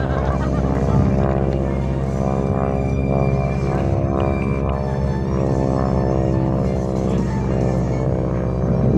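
A propeller airplane engine drones loudly and steadily overhead at an air show during a wing-walking act, a constant throbbing roar that shifts slightly in pitch.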